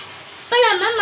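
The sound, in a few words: tomatoes being sautéed in a pan for fish gravy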